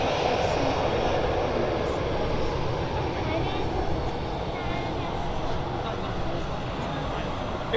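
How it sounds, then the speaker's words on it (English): Austrian Airlines airliner, 16 years old, departing from runway 05 at Manchester Airport bound for Vienna, a steady broadband jet roar holding constant and fairly loud throughout, with faint voices talking underneath. "The aircraft is 16 years old and heading back to Vienna."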